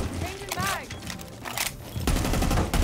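Rapid gunfire in Rainbow Six Siege as a player pre-fires common angles, bursts of shots mixed with game noise and a voice talking over part of it.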